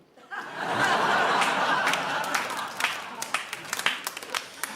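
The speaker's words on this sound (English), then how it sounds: "Claps only from the women" A studio audience on a news-panel show breaks into applause mixed with laughter, a dense burst of clapping that tapers into scattered claps and chuckles.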